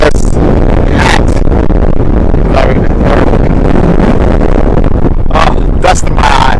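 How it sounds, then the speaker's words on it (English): Strong gusting wind buffets the microphone outdoors at Big Bend, a loud continuous roar with rustling bursts throughout, no speech over it. "it's freaking windy"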